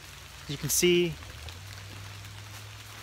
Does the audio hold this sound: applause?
no